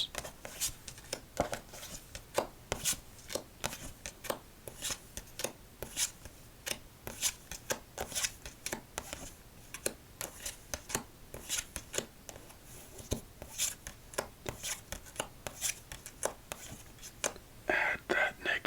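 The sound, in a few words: casino shuffling playing cards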